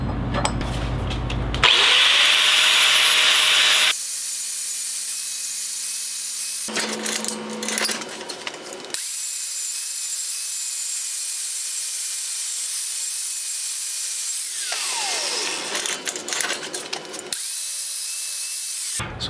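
An angle grinder works welded steel pieces for an art-metal stump and axe, taking off slag in loud, harsh bursts that start and stop several times, with quieter tool-free gaps between passes.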